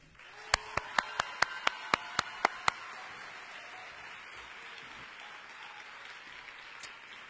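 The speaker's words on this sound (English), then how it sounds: "Seniors, please take this moment to give a round of applause to all of those who have been there for you" At a 2021 high school graduation for the Osceola School for the Arts, about nine sharp, evenly spaced claps ring out close by, then fade into a soft, murmuring crowd backdrop.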